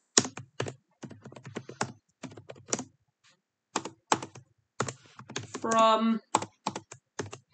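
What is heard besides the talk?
typing a Christmas card on a computer keyboard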